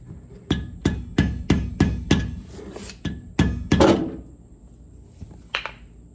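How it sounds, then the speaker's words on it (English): Chisel struck with a mallet to tap over a rear brake caliper keeper on a 2006 Chevy 3500 dually, about nine sharp metallic taps in steady rhythm followed by a pause and one last tap. "take a chisel and a mallet and tap it over just a little bit"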